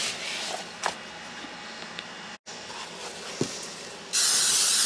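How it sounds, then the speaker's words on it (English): Aerosol or pump sprayer misting over garden containers outdoors, a soft steady hiss with a couple of short bursts, a brief pause, then a louder sustained spray at the end. "Just going to spray a few more of the containers that I have."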